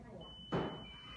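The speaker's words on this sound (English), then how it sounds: "when the oven goes off, it's going to beep." An oven timer sounds a thin, steady electronic beep that holds faintly over room noise, with a brief loud thump partway through.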